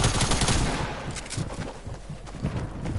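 Rapid automatic gunfire in a multiplayer shooter video game, a dense continuous burst of shots that is loud at first and then thins into scattered cracks.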